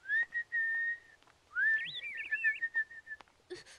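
A child whistles to imitate birds: several sustained, clear whistled notes, then a rising, warbling run of chirp-like trills, close and alone in a quiet room.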